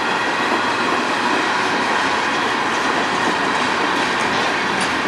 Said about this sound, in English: I think this is a pretty big train